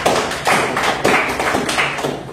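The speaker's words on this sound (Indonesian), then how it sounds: "Kita berikan aplaus untuk." Classroom audience applause during a university teaching session, a dense burst of many hands clapping that swells in several waves and stays fairly loud throughout.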